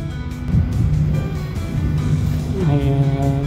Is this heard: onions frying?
no